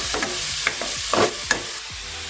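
Pork being stirred as it fries in a pan, a loud continuous sizzle broken by several scraping stirs and clacks from the utensil, close and without speech.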